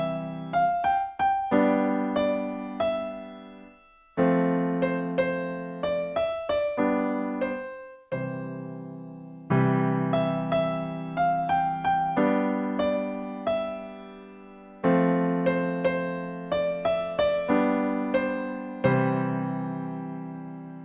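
A solo piano plays a gentle beginner piece with both hands together, right-hand melody notes over sustained left-hand chords, in steady repeating phrases, clear and close with no talking.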